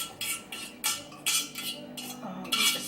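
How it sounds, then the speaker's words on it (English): A spatula scrapes the last bits of broccoli cheese potato soup ingredients out of a container into a pot. The clip holds a series of short scraping strokes, close and moderately loud, in an irregular rhythm with no talk. "Use the spatula so we get the rest of that out."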